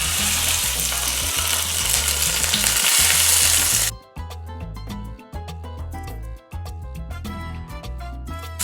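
Red mullet fillets sear skin-side down in smoking-hot oil in a non-stick pan, with a loud, dense hiss for the first few seconds before it drops away and tonal music takes over.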